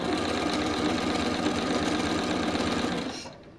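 Sewing machine running steadily through fabric, a fast even mechanical whir with a rapid needle chatter, close and loud, slowing to a stop at the end.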